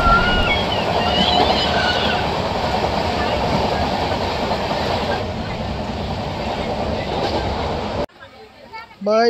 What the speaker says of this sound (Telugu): మన ట్రైన్ అయితే మర్రిపాలెం PH రైల్వే స్టేషన్ అంటే స్టార్ట్ అయిపోయిందండి.